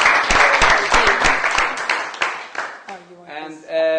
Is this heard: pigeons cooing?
no